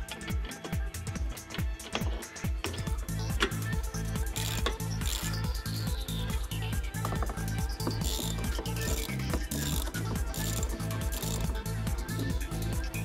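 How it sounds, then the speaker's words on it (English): Screws being removed from the transport pallet of a truck tyre changer, a steady rapid ratcheting click repeating throughout, close and clear. "2 screws have to be removed to loosen the machine from the transport pallet."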